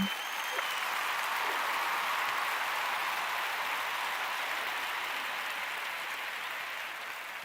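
Sustained applause from a crowd, dense and steady clapping filling the whole stretch at an even loudness, tapering slightly toward the end.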